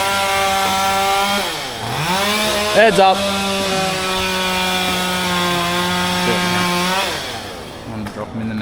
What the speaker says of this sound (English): And I'll just clean the stubs with a chainsaw in a sec.